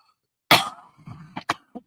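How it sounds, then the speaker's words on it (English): A man gives a harsh, close cough followed by a few smaller throat-clearing coughs in quick succession, with nothing else heard. "You're gonna have to excuse me for the coughing and sniffling this week."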